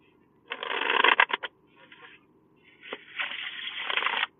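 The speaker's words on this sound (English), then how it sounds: "The bridge shuffle, there it is" A card deck riffled in a bridge shuffle, a fast flutter of cards followed by a second longer riffle, close and clear with a quiet pause between.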